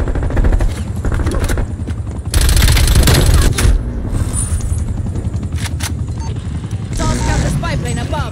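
Gunfire in the video game Call of Duty Cold War, loud and continuous bursts of shooting under a dense game mix, with a player talking over it.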